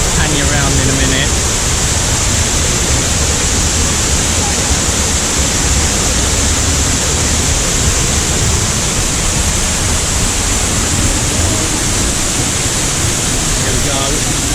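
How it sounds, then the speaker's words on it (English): Roaring waterfall on the Four Waterfall Trail in the Brecon Beacons, Wales, heard from directly underneath: a loud, dense, continuous rush of falling water that fills the whole clip without letting up. "Here we are, about to walk right under the waterfall."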